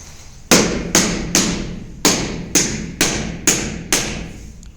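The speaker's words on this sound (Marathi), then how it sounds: "आता बसवलेली फरशी हातोडीच्या साहाय्याने ते सिमेंट पाण्यावरती पॅक करतात" A hammer taps floor tiles into cement: eight sharp, close knocks in a steady rhythm with one brief pause, each ringing out slightly, no voices.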